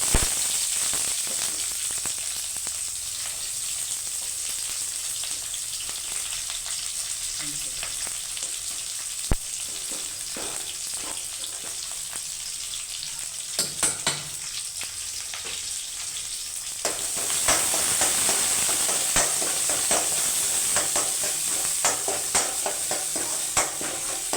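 Onions frying in oil with popped mustard seeds and curry leaves for a drumstick-leaf sambar, a steady close sizzle with scattered crackles that grows louder and denser partway through, no voices.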